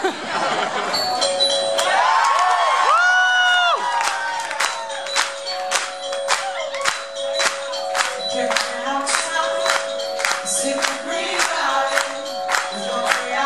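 Audience at a performance clapping in a steady unison rhythm after a sustained musical tone fades, claps sharp and evenly spaced with a faint murmur underneath.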